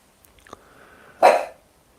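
A dog growls low and then lets out one loud, close bark, with quiet room noise before and after.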